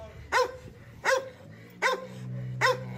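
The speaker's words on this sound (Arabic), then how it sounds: "قوي جدا كلب الكاني كورسو، معروف كلب ضخم شرس" A Cane Corso barks four times, deep and forceful, with evenly spaced barks about three-quarters of a second apart, close and clear with no one talking.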